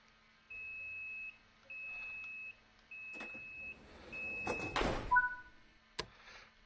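Train doors lock in Train Sim World 6, four steady warning beeps in even succession followed by a loud sliding thud and clunk as the doors close, then a sharp single knock, heard alone.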